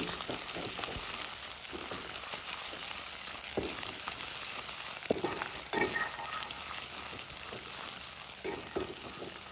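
Onions with garlic-ginger paste fry for egg curry in a steady, close, loud sizzle, with sharp clacks and scrapes of stirring scattered through.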